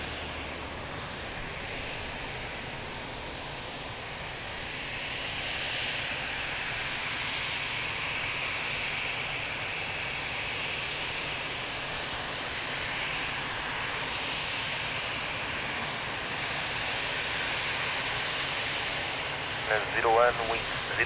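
A jet airliner spools up and rolls for takeoff on runway 02 at Lisbon Airport, a steady broad roar heard from a distance that swells gently and holds, with brief faint clicks near the end.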